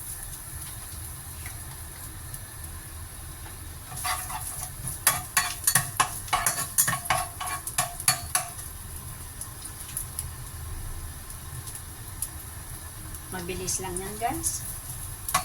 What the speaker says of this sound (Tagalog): Konting mantika lang. Una, igisa muna natin guys ang konting ginger.